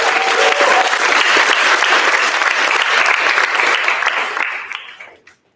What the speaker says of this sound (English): Go ahead and give her a applause.